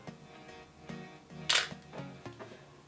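Shutter of a film camera firing after being cocked, a single sharp click mid-clip against a faint quiet background.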